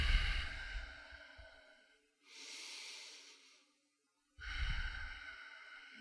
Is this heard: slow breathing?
yes